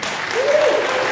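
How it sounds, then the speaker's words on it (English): Conference audience applauding a security talk speaker, a brief steady wash of clapping with a faint whistle-like tone running through it. "Big round of applause for Marcio."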